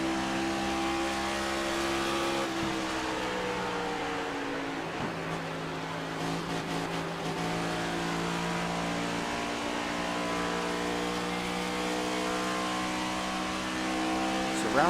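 A NextGen Cup Series race car in iRacing at Homestead-Miami Speedway drones loudly under constant engine tone, with the throttle feathered in repeated small rises and dips through the turns, the pitch wavering as it holds around the corner.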